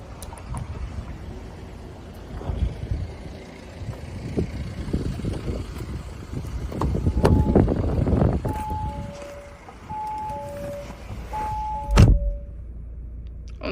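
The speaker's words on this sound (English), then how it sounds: "As we approach the boot, we can see that it's electric." Electric tailgate on a car boot opening, a low motorised hum and mechanical thunk with repeated short warning beeps and a firm latch clunk near the end, close by, with wind noise throughout.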